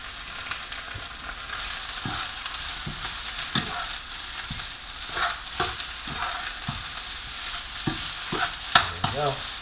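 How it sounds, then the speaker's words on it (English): Spinach being stirred as it wilts down in a pot of wedding soup, with steady scraping and clacking stir strokes over a continuous sizzle, close and moderately loud, no talking. "all of that spinach is going to cook down to a minuscule amount"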